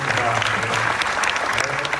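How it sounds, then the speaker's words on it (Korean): Brief round of audience applause at a men's business seminar in Korea, many hands clapping steadily in a large room, fairly loud, with a faint murmur of voices underneath. "우리 여성분들을 위해서도 우리 박수 한번 부탁드립니다"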